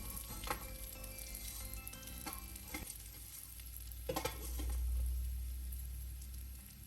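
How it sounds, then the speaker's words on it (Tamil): Poha frying in ghee in a pan for laddu, a steady close sizzle with scraping stir strokes and a low rumbling hum swelling briefly partway through. "இப்போ இந்த நெய்யில் ரெண்டு கப் அவல் சேர்த்துக்கலாம்"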